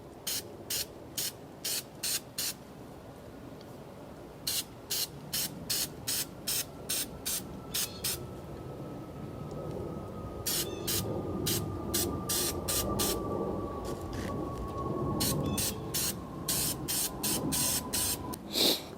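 An aerosol can of filter oil sprays onto a Harley-Davidson Touring motorcycle air filter in short, sharp, close hissing bursts, repeated in quick clusters with brief pauses between, over a faint background hum.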